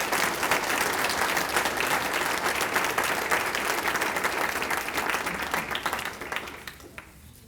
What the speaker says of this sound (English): Big round of applause for all of these Hall of Famers.